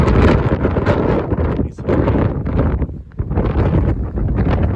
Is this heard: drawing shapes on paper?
no